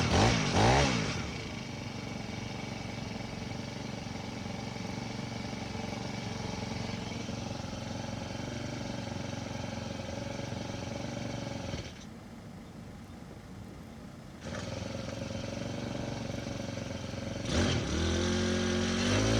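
A repaired tiller's small engine runs steadily with the choke on, throttle held, loud and continuous with a brief dip in level partway before it picks back up.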